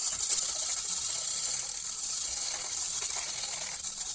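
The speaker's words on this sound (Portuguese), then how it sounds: "Aí eu uso o fouet." A metal whisk stirs sugar into water in a bowl for homemade bread rolls, a fast continuous swishing and clicking rattle, close and steady throughout without talk.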